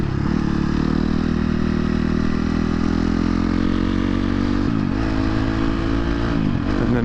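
A 2023 KTM 250 XC-F dirt bike engine runs loud and close, holding a steady high-pitched drone, then dips and rises in quick throttle blips near the end.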